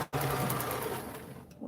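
A home sewing machine stitches fabric for a padded dress form cover, running in one steady, fairly close whir for over a second after a brief pause at the start, then trailing off slightly.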